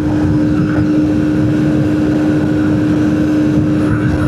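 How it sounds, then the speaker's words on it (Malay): Loud, steady wind roar buffets the microphone over a constant Modenas Z15GT motorcycle engine drone while riding, rushing without pause as if at high speed. "Ni angin agak kuat juga ni sebenarnya."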